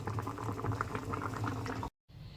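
Water boiling vigorously in a pot with raw mango pieces, a loud continuous bubbling and popping that stops briefly near the end before resuming.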